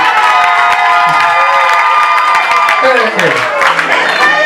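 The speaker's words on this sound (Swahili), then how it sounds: "Piga Yesu makofi" A church congregation claps and cheers for Jesus, a dense loud wash of hands and voices with shouts rising over it, close and continuous for a few seconds.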